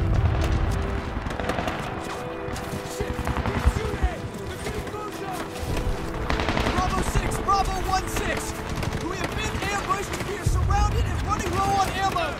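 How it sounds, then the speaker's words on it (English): Medal of Honor combat at a gate: scattered gunshots and bursts of automatic fire pop around a loud battlefield with booms and footsteps, while voices shout throughout. "He's shooting!"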